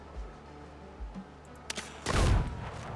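Weapon fired at a rock in the game Windrose, a couple of soft low thumps followed by sharp cracks and a loud booming blast with crackling after.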